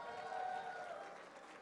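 Brief, faint applause from an audience at a charity dancing event in Columbus, a soft patter of clapping with a thin tonal sound over it.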